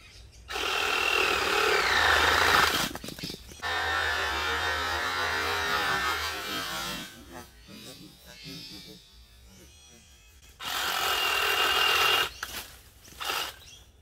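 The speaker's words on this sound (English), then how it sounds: "I'm just going to use this small electric pruning saw." A small electric pruning saw cuts peach tree branches in an orchard, its buzzing whine running in long loud bursts with pauses and quieter stretches between cuts.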